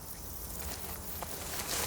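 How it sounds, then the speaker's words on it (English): Flies, bees, grasshoppers and crickets buzzing throughout the air inside a wild crater, a dense steady insect hum and chirr with brief nearer buzzes passing close, no voices. "The air here is swarming with flies, bees, insects of all kinds. And you also have grasshoppers and crickets. I can hear them buzzing in all directions."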